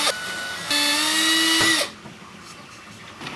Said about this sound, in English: let's go ahead and start off on doing that part by drilling some pilot holes in the main frame